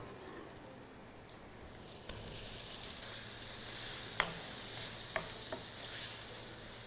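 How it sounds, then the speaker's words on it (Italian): Quartered tomatoes hit a hot frying pan and sizzle steadily, a continuous frying hiss with a few sharp pops and crackles, close and alone with no talking. "Taglio i pomodori in 4. E li aggiungo a padella."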